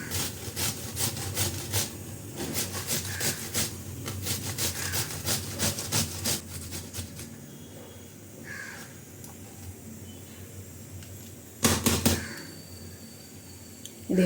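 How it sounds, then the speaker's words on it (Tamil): A cucumber is grated by hand on a kitchen grater, giving quick, rhythmic rasping strokes up close for several seconds before quieter handling sounds and one short final burst of scraping. "2 பக்கமும் காம்பை கிள்ளிட்டு அப்படியே துருவிக்கலாம்."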